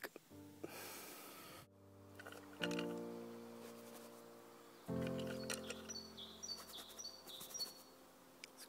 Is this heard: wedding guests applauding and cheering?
no